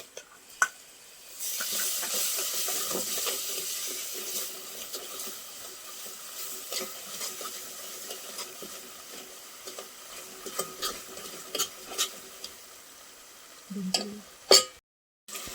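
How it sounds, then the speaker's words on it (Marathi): Masala for a crab curry sautés in a pan, hissing and sizzling steadily at moderate volume while a spatula scrapes and taps through it now and then, with a few sharper knocks near the end. "आपला मसाला छानपैकी परतून झालेला आहे"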